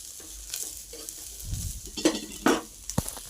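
Ingredients frying in hot oil: a soft, close sizzle with stirring scrapes and a few sharp utensil clinks against the pan toward the end.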